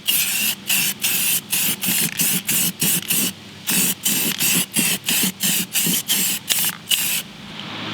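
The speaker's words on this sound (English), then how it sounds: "So we're gonna spray this down just like we did before" Spray paint hisses onto a car wheel being refinished in black, in a rapid series of short bursts with brief gaps, close and loud, with no talking.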